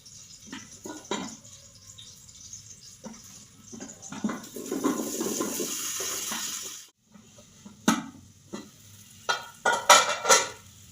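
Amla (Indian gooseberries) are cooking in oil for a pickle until they split into segments. Spoon taps and scrapes on the pan come close and loud, with a swelling sizzle in the middle, a short pause, then more clattering stirs.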